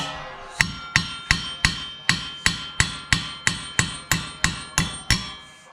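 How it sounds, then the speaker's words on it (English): Sharp metallic hammer strikes ring out at an even pace as wheel studs are hammered out of a Ford Focus rotor, about a dozen blows in a row, close and loud, each one ringing briefly before the next. "we're gonna take the rotor off and hammer out these wheel studs"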